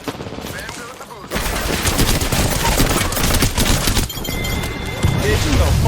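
Rapid hip-fire gunshots in the battle royale shooter Apex Legends, a dense, loud stream of automatic fire with impact crashes that pauses briefly before another burst. A voice talks over the action.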